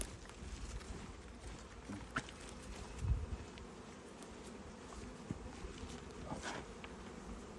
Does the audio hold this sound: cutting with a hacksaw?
no